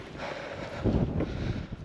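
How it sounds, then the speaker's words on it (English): Wind gusting across an exposed hillfort, buffeting the microphone with low rumbling bursts that swell and fade over a couple of seconds, no voices. "now it's windy and winded"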